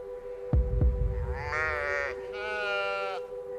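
A ram sheep gives two drawn-out bleats at close range during a hunt, following a couple of low thumps, over a steady background hum.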